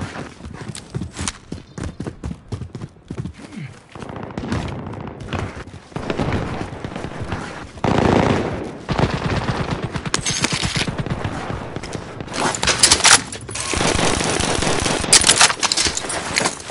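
Rapid bursts of automatic gunfire in a PS4 shooter game, dense and sustained with loud volleys and clustered shots, interspersed with hoof-like clatter and footsteps, with no talking.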